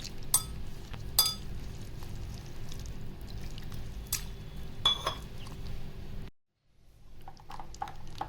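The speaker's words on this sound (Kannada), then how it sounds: "ಇದಕ್ಕೆ ನೀರು ಸೇರಿಸಿ ಚೆನ್ನಾಗಿ ಮಿಕ್ಸ್ ಮಾಡ್ಕೊಳ್ಳೋಣ." A spoon stirs a bowl of flour and spice batter with ginger-garlic paste and water for gobi manchurian, scraping softly with sharp clinks against the bowl before a brief hush and a few more light knocks.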